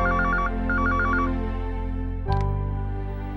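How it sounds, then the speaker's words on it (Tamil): A telephone rings in two quick trilling bursts, followed by a click as the receiver is picked up, with a steady background hum. No one speaks. "ஜீவிதா எப்ப கிளம்புறான்னு கேட்கறதுக்காக தான் நான் ஃபோன் பண்ணேன்"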